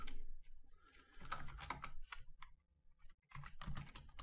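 Someone types C code on a computer keyboard, with quiet bursts of rapid key clicks in irregular clusters, a brief pause, then another flurry, close and alone.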